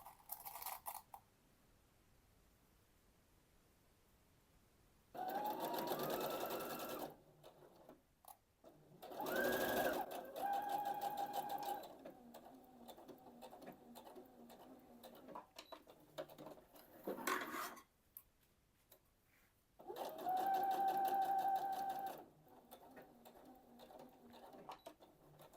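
A sewing machine stitching together garment facing pieces runs in several loud bursts of steady whirring, each a few seconds long, separated by quieter pauses with small handling clicks.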